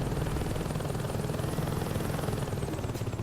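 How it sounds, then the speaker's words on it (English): A helicopter in the video game Saints Row 2 thumps continuously with a loud, rapid rotor chop and engine drone, close and steady with no talk. "a lot of times you'll hear the helicopter sound too"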